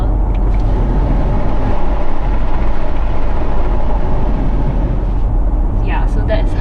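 Cabin noise inside a 2019 Range Rover Velar while driving, a steady low road and engine rumble with a soft broadband hiss, constant and close, a person talking over it.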